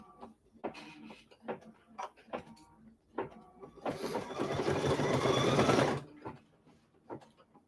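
Embroidery machine stitching a blanket stitch on a quilt wall hanging, a dense mechanical whirring burst of about two seconds between scattered short clicks and taps.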